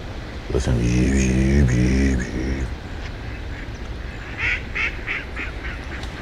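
Ducks flocking into flooded Arkansas timber quack in scattered bursts over a steady background hiss, while someone talks loudly near the start.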